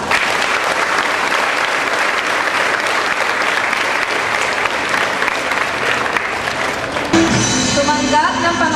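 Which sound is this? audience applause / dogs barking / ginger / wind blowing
audience applause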